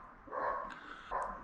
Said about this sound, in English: if I can keep my neighbor's dogs quiet.